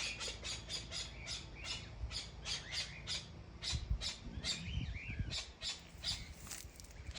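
Birds in a home garden call with repeated sharp squawks and chirps at a quick, irregular rhythm, fairly faint, with some low rustling and handling noise underneath and no talk.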